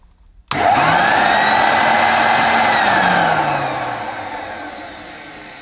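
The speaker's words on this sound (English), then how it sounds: "So if I was to switch the cleaner on now" A 1960s vintage Hoover Junior 1334A vacuum cleaner switches on after a brief silence, and its motor then runs with a steady, close, droning whine that eases slightly toward the end.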